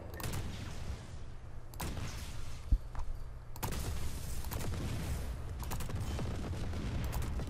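Weapon fire in the video game Just Cause 4, with a few separate loud blasts that cut in and then trail off over a steady low game rumble.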